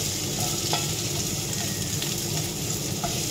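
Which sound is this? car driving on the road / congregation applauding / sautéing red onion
sautéing red onion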